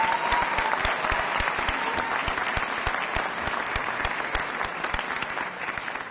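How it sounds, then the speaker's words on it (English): A senior honors night audience at University High School applauds parents, faculty and staff, producing continuous, even crowd clapping that carries at a moderate level throughout, with distinct sharp claps nearby over a dense wash of applause. "Please give yourself a huge round of applause."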